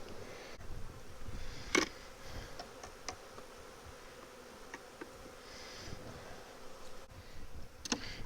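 Honey bees from an opened hive during a colony inspection, a faint steady buzzing hum that carries throughout, broken by a few brief clicks and knocks close by.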